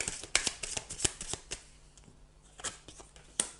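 Lenormand cards being shuffled for a fortune-telling reading, a run of quick, crisp riffling snaps and soft card slides close by, with no talking.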